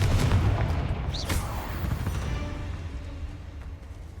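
A Confringo blast spell goes off in the video game Hogwarts Legacy as a heavy, booming burst with a rumbling low end and a crackling tail. It is loud and close, with no speech over it.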